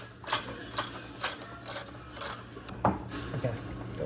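A jack ratcheting to raise a Toyota JZX90 transmission during a swap from automatic to manual, six evenly spaced sharp metallic clicks, close and crisp, followed by a faint shuffle.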